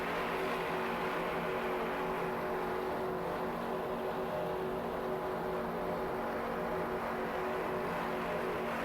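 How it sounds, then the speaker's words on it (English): The racing powerboat Change Order runs on United Racing engines, roaring in a continuous, dense drone that holds at an even level throughout with no breaks and no talk. "Just listen to those United Racing engines."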